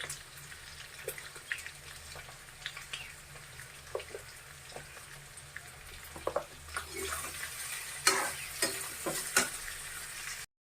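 Pork with a little turmeric fries and is stirred in a pan, giving a soft steady sizzle with quiet scraping strokes that grow louder and more frequent toward the end, no voices over it.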